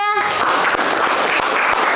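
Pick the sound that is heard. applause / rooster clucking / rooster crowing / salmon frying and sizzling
applause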